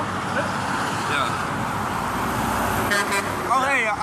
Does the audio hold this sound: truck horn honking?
yes